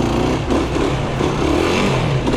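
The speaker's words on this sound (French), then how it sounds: "Ça fait bizarre de faire un wheeling avec un quad." Quad bike engine revving hard and steadily through a wheelie, a loud, close, continuous buzzing drone with slight rises and dips in pitch.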